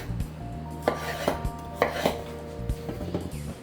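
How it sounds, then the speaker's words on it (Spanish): A knife cuts Yukon potatoes into wedges on a board, giving several distinct thuds and clacks at an uneven pace, close by over a low background hum, with no one speaking. "Lo que voy a hacer es cortarlas en gajos"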